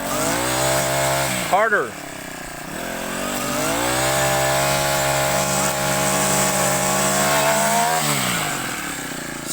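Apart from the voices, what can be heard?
grass cutter engine running, spun and hit on ground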